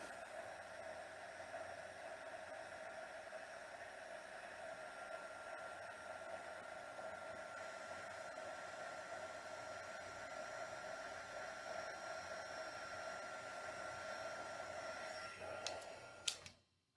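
A hair dryer blows steadily as a paper craft project with stamped card pieces is dried, a constant close whoosh lasting throughout before it cuts off at the very end.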